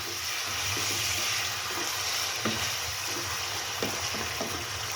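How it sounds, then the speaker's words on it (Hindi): Chicken fries in a karahi for a dhaba-style white chicken karahi, a steady dense sizzle throughout with faint stirring knocks now and then, close and even in level. "ये देखिए जी, चिकन जो है ना हमारा बहुत अच्छी तरह फ्राई हो रहा है।"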